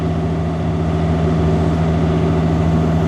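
A tractor engine, set to its highest power mode while resting a bucket, drones loud and close with a steady low diesel hum and a constant tone, alone with no talk.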